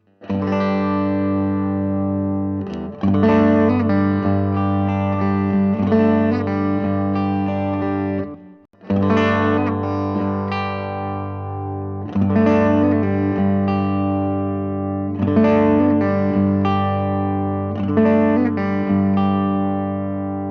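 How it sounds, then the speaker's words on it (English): Telecaster electric guitar chords with the neck pickup added to the bridge pickup are strummed and allowed to ring in a repeating pattern, with a warm, full, slightly overdriven tone and a brief pause midway. "Now I'll bring in the neck pickup."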